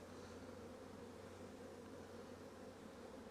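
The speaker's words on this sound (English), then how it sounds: "Strong hives like this, and with the bees running everywhere" Honey bees swarm over a strong, busy hive, making a steady low buzzing hum that holds evenly throughout, quiet and unbroken with no voices.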